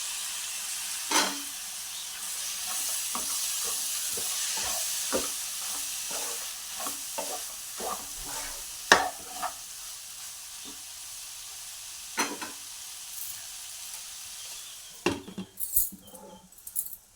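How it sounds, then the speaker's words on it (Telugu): Tomatoes and soya chunks frying in a pan, with a steady sizzle and repeated spoon stirring and clinks against the pan, ending in a burst of louder scraping. "మూత వేసుకొని మధ్య మధ్యలో కలుపుతూ ఫ్రై చేసుకో."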